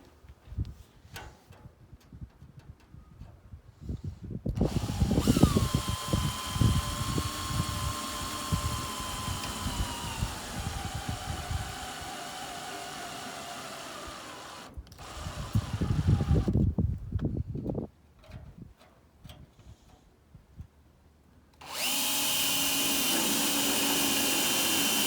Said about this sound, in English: I'm going to go ahead and start drilling into the dash and the molding.